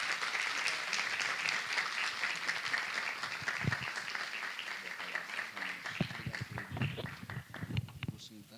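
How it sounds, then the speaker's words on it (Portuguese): Warm applause welcoming Professor Ronald to the stage at a Brazilian education forum, a dense steady clapping from a sizeable audience that thins toward the end as a few louder individual claps and stray voices stand out. "gostaria que recebêssemos com uma calorosa salva de palmas"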